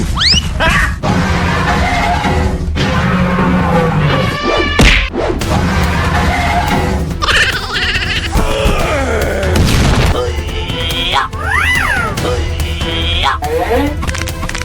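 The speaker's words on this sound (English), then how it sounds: "Have you ever seen a greater fireworks display?" Cartoon fireworks in a superhero gorilla animation, with loud booms, crashes and whooshing whistles bursting repeatedly over a dense, busy mix with groaning and shouting voices.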